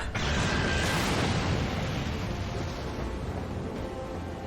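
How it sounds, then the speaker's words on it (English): A single large explosion in Final Fantasy XIV, a sharp blast at the start that swells into a long rumbling roar and slowly fades, heard alone. "Explosion!"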